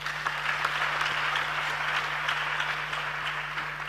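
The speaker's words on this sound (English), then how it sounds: "Let's clap for him." Audience members at a youth dialogue session clap in sustained, even applause, a dense patter of many hands at moderate loudness with a steady low electrical hum running underneath throughout.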